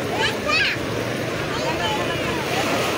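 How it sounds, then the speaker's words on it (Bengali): Sea waves wash onto the beach at Cox's Bazar, a steady surf roar with wind, while people's voices sound nearby over it. "এদিকে ঢেউ আছে"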